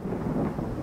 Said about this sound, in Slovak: V tomto ročnom období je slnečný svit pravidelne prerušovaný prudkými búrkami.